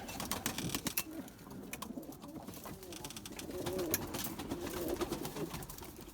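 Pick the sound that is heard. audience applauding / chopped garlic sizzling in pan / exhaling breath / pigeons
pigeons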